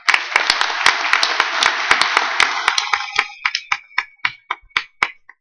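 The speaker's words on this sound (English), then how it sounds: "So I'd like to give a big round of applause for Jack Effel." Conference audience at a poker tournament directors' summit applauds, a dense burst of clapping that thins into scattered individual claps before fading out.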